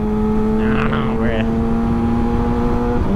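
Motorcycles rev out on the road as they pass, a loud high engine whine rising and falling over a steady low hum, with a voice heard briefly.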